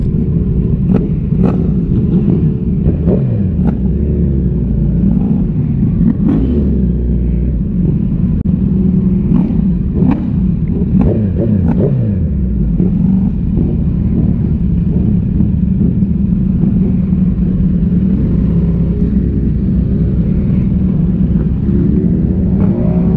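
Motorcycle engines rumble and rev at a Bikes and Breakfast bike meet, a continuous low drone with occasional throttle blips rising over it from nearby bikes.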